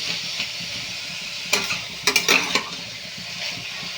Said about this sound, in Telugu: ఇవి మొత్తం మగ్గేటట్టు అయితే ఫ్రై చేసుకుందాం ఫ్రై అవుతున్నాయి కదండి